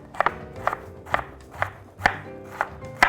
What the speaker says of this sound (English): we'll cut down just like you do with an onion